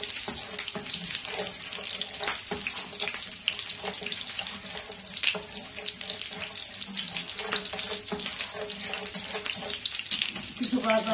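Rice being washed under a running kitchen tap, a steady loud rush of water splashing into a sink that continues without a break, with faint clinking underneath.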